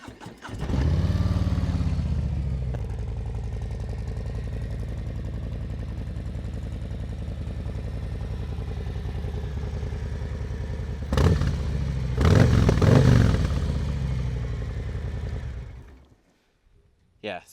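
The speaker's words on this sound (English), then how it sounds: "we'll listen to my quiet little bike compared to yours" A 2020 Harley-Davidson Low Rider S with a Stage 2 setup idles with a steady, loud low rumble for most of the run, then gives a couple of sharp revs near the end before cutting off.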